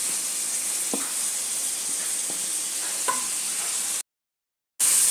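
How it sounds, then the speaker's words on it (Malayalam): Crushed shallots sizzle in hot oil in a pan on the stove, a steady close hiss with a few soft clicks of stirring, cut off abruptly near the end before the sizzle returns. "ചുവന്നുള്ളി ചതച്ചത് ഇട്ട് കൊടുക്കാം."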